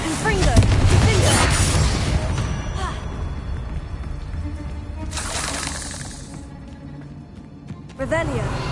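Explosive spell blasts in Hogwarts Legacy go off as loud bursts and shattering crashes in a rapid sequence, with a voice talking over the booms.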